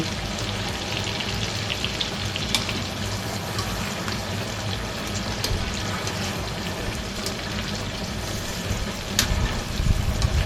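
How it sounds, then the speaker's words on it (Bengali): Shrimp frying in hot oil, a steady dense crackling sizzle with occasional sharper pops, close and continuous throughout with no talking. "ঠিক এইভাবে সবগুলো মাছ আমি ভেজে নিলাম"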